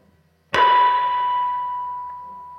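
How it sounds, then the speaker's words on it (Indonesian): A single guitar string harmonic, sounded by lightly touching the string, rings out as one clear bell-like tone with a sharp attack and a long, slowly fading sustain, played alone and close. "kita mainkan apa yang disebut dengan teknik fagiolet, atau ada beberapa orang menyebutnya juga harmonik"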